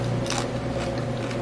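Someone bites into crispy air-fried pork leg skin (crispy pata), one crunchy bite followed by a brief chew, close to the microphone over a steady low hum.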